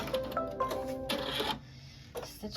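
An embroidery sewing machine stitching a drawstring on a sweet treat bag in a hoop, whirring in bursts with rhythmic mechanical clatter and short pauses, close and moderately loud.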